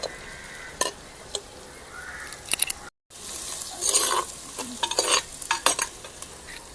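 Green chilies frying in a pan while prawn and drumstick theeyal is cooked, with soft sizzling and several bursts of stirring and scraping, fairly quiet and without talk.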